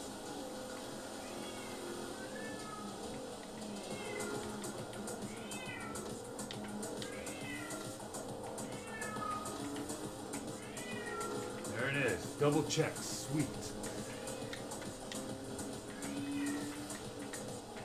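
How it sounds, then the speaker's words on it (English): A pet cat meows repeatedly in the background, a string of drawn-out calls roughly every second or two, while someone talks over Forza Motorsport 7 rally racing game sounds with rain and engine noise. "you hear my cat in the background meowing like crazy"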